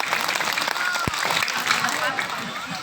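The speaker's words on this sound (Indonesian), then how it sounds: "Tepuk tangan." Audience applause at a halalbihalal community gathering, a crowd clapping in a dense patter with a sharp thump partway through, mixed with background voices.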